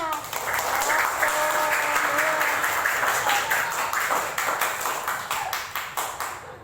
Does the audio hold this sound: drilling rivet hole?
no